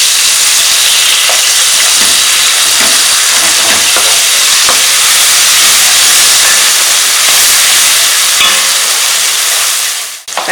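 Tomatoes fry for idli sambar in a pan, giving a loud, steady hiss and sizzle throughout with faint stirring scrapes. The sound cuts off abruptly at the very end.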